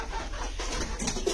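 Laying hens and medium-sized chickens cluck softly at feeding time, with faint scattered clucks and bird calls over a steady low background.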